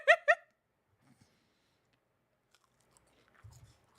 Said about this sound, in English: I just got my dinner, so I'm gonna be munching crunching a little bit